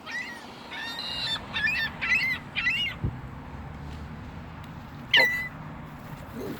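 Seagulls calling in a parking lot, a run of sharp squawking cries in quick bursts, then a lone louder squawk near the end, over steady outdoor background noise.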